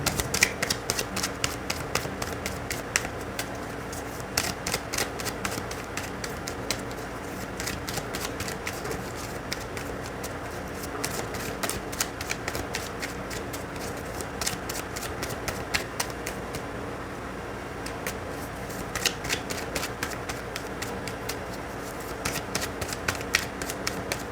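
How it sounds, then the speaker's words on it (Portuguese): Tarot cards are shuffled over and over in a quick, steady riffle of dense papery flicks and clicks, close and continuous for over twenty seconds with no talking. "Porque eu vou ter que embaralhar várias vezes"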